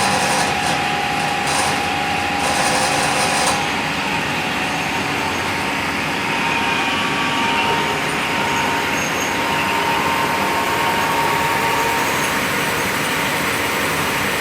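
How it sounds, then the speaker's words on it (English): Vehicle alternator spinning on a Motoplat VC07 test bench, a steady mechanical whir with a faint tonal hum, continuous and even in level throughout with no talking. "if we connect up the right way and run the alternator again"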